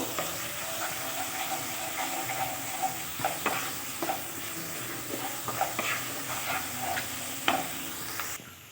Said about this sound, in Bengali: দিয়ে ভালো করে মশলাটাকে কষিয়ে নিতে হবে। মশলাটা তেল ছাড়া পর্যন্ত কষিয়ে নেব।